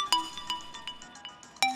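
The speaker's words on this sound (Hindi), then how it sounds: "तेरा फोन बज रहा है" A phone ringtone plays a bright, repeating electronic melody of quick plucked notes, close and clear, with no voices.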